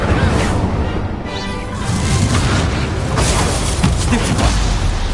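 An Incendio fire spell cast in Hogwarts Legacy: a loud, continuous roaring burst with booming low-end impacts and whooshing texture, sustained throughout amid dense combat noise.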